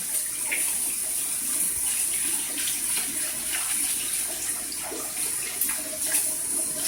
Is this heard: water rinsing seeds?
yes